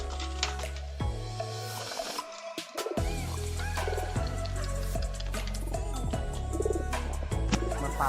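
Pigeons coo in low, throaty, repeated rolls over a dense layer of other bird calls and background noise, close and steady throughout.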